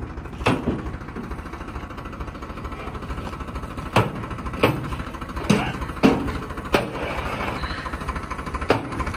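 A tractor engine on a goat farm chugs steadily in a low, continuous rumble, punctuated by sharp metallic clanks at irregular intervals.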